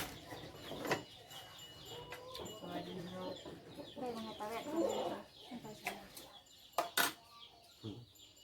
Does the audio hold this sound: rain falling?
no